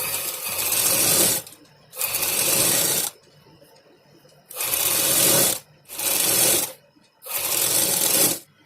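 A sewing machine stitching the sleeve of a cotton kurti: five loud, close bursts of rapid mechanical chatter, each lasting about one to one and a half seconds, separated by short quiet pauses.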